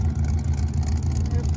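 Low, steady engine rumble from a car at a Mustang show, running continuously at close range with a slightly uneven, putt-putt throb and no clear revving.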